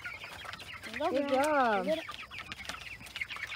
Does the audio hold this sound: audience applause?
no